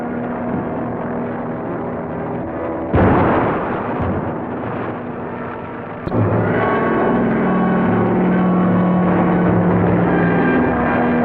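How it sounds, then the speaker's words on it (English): Bombs dropped from an aircraft in a 1941 crime serial explode in a continuous loud rumbling roar, with sudden heavier blasts at about three and six seconds over a sustained low drone. "I can start dropping these bombs"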